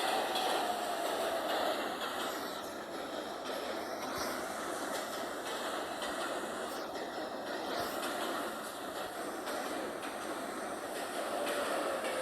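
A B local express subway train in a train simulator game runs steadily with a continuous rumbling, rushing roar, faint rhythmic wheel clicks and a thin high whine, without any talk.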